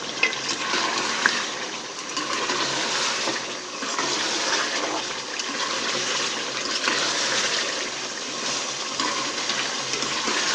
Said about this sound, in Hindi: मसाला शोरबा जिस तरीके का आप रखना चाहें उतना पानी इसके अंदर शामिल कर दें